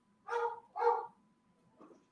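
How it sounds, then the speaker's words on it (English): Dog barking indoors, two sharp distinct barks close together followed by a faint softer bark a moment later, fairly quiet overall. "Now it's my dog barking."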